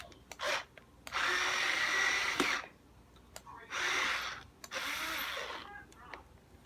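Power drill driving longer screws into a Fender Squier Mustang hardtail short-scale guitar, several bursts of whirring of a few seconds each separated by brief gaps, close and fairly loud with short knocks between.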